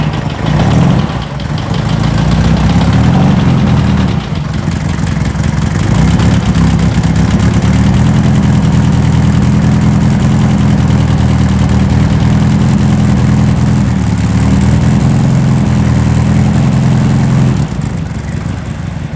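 A 2.2-liter sand rail engine fed by dual 44 IDF carburetors idles steadily after a dead cold start, a loud, close, continuous low rumble holding even for the whole stretch with no voices over it.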